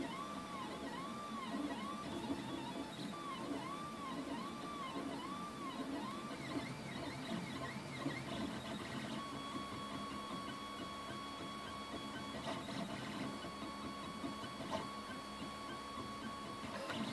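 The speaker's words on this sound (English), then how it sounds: "So I'm just going to film a little bit of it printing," A Geeetech aluminum-frame Prusa i3 3D printer runs a print, its stepper motors whining in looping, warbling tones over a steady mechanical whir, shifting pitch as the head changes moves, close and continuous with no talking.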